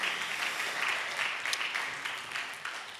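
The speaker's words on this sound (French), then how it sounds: "On peut applaudir donc Myriam Merad." An audience at a round-table conference claps for a speaker, a steady, fairly loud wash of many hands that slowly fades toward the end.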